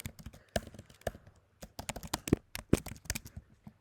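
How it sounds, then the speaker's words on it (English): Typing a name on a computer keyboard, with irregular quick clicky keystrokes close by and brief pauses between bursts, no talking. "I just type my name here"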